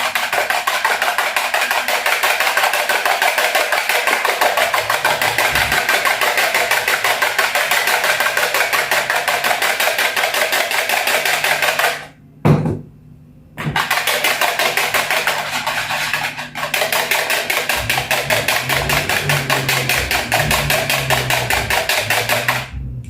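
Eggs being whisked in a bowl for chocolate banana bread make a fast, steady, rhythmic clatter that runs close and loud, stops briefly partway, then resumes.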